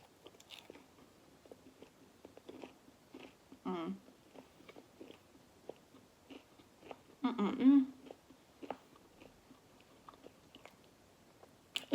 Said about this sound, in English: It's really crispy and crunchy too.